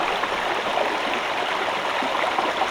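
A brook flows over rocks in the Highlands, a steady, close rushing and babbling of water that fills the whole span without pause.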